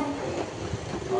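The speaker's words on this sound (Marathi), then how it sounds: "चला लवकर, ट्रेन आली." A local train arrives at a station in Kalyan: steady broadband rail rumble and rolling noise, with low hum and a brief tonal whine near the end, continuous and fairly close over crowd ambience.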